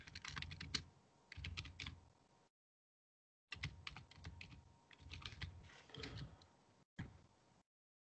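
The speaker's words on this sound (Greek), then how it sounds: "γράφουμε το κείμενο που θέλουμε." Quick bursts of keystrokes on a computer keyboard while typing text into Photoshop, close and fairly quiet, broken by two short silent pauses between runs of typing.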